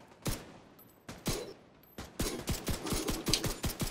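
Video game gunfire: a few spaced single shots, then a quicker run of sharp, punchy bursts close by, with no one talking over them.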